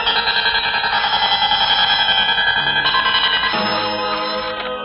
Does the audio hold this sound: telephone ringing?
yes